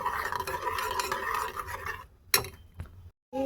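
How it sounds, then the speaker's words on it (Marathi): Grated sweet potato and milk being stirred in a pan for a fasting kheer, a steady scraping swirl for two seconds, then a few sharp utensil knocks and a brief pause. "आपल्याला सारखं असं मिक्स करत राहायचं आहे"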